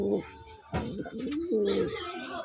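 Satinette Bluely Spot Tail pigeon hen cooing in a loft, soft throaty coos in short bursts, close by, with some faint chirps among the birds.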